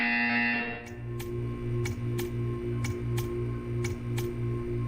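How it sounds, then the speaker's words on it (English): Buzzer in the video game Portal 2, sounding as a steady series of about eight evenly spaced short electronic pulses over a low hum after a brief opening tone, with no talking. "When you hear the buzzer, stare at the art."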